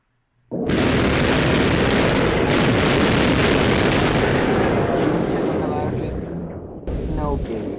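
Battleships trade fire in Civilization 3 with a World War 2 mod: a loud, sustained roar of overlapping blasts and rumbling booms that starts abruptly, fades slightly, then swells again.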